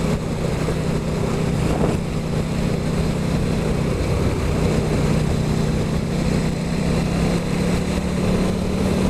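A KTM RC8 motorcycle engine drones steadily during a ride, a continuous loud rumble with wind roar and no change in pitch or break throughout.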